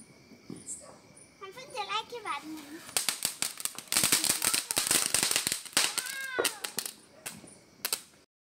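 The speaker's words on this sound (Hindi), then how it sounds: "पटाखा फोड़ रहे थे" Firecrackers burst during Diwali night celebrations, a rapid series of sharp cracks and pops in a crackling barrage, with whistling rockets rising in between and people chatting nearby.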